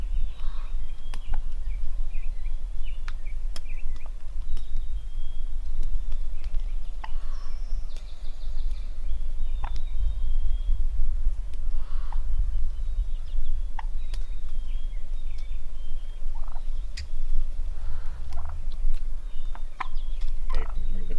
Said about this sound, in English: just watch as all these hens and a few toms walk right by the camera, and you can just hear constant purring over and over